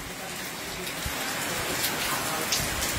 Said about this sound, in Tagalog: pumapatak pa rin ang malakas na ulan